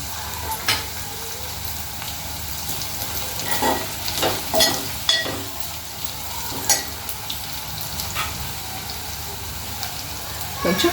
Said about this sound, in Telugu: పచ్చివాసన పోయే వరకు ఇట్లా మంచిగా ఫ్రై చేసుకోవాలి